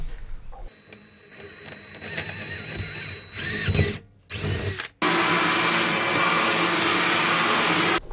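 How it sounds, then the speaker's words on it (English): A power drill boring bolt holes through a van floor, loud bursts of whirring and grinding that stop and restart, ending in a sustained steady drilling run with no talk. "Okay, we have all of our holes drilled"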